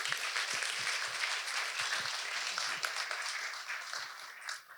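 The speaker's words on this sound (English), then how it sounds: "please give them a big round of applause because we couldn't be here without them" Audience applause for the sponsors at the Agile on the Beach conference in Cornwall: steady, dense clapping from a crowd filling the room, holding level for several seconds before tapering slightly at the end.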